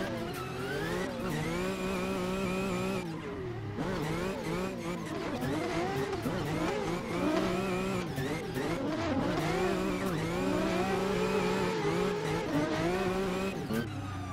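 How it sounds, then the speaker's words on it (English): Nissan 350Z engine in the Assetto Corsa racing game, revving hard and bouncing off the limiter while drifting, with continuous loud harmonic engine whine rising and falling and brief tire squeal, no talking. "the 350Z just makes awesome noises"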